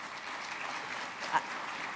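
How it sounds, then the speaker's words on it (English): Audience applause during a mayor's 2013 State of the City address, a steady wash of clapping from a large crowd filling the room, moderate and even throughout with one brief louder spot. "I appreciate the applause"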